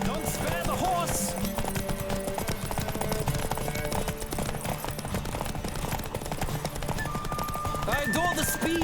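A horse gallops hard in a Witcher 3 race at Vegelbud's Residence, hoofbeats pounding rapidly and close beneath swelling game music, with sharp clattering bursts and snatches of talk.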